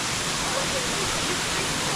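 Russell Falls in Mount Field National Park, Tasmania, running with fairly low water in late May, gives a steady, even rush of falling water that fills the whole clip without a break.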